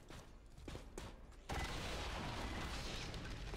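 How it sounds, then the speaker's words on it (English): A game explosion in XCOM 2: War of the Chosen breaks out after a short lull, a loud burst that settles into a sustained rumbling roar; no one talks over it. "there was the explosion we were waiting on"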